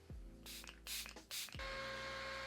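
Three quick hissing bursts of makeup setting spray mist in a row, close and crisp, followed by a fourth longer spritz that trails into a faint tonal hum.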